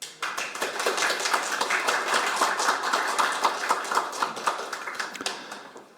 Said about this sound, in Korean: 모두 큰 박수로 환영해 주시기 바랍니다